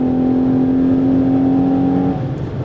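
2025 Ferrari Purosangue accelerating on the Autobahn, a steady engine hum and drone heard from inside, loud and continuous, easing off near the end with no talk.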